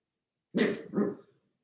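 A female dog indoors near an open window gives two quick, close barks in a quiet room, then falls silent.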